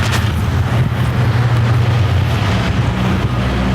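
A car creeps up onto ramps with a steady low engine rumble, loud and close, with a slight swell in the middle and constant wind-like noise over the microphone, no talking.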